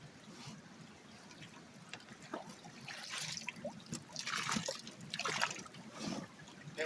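Gravel concentrates are swirled in a gold pan in river water, giving soft, irregular sloshing and trickling with small gritty splashes that come in gentle waves, faint and close.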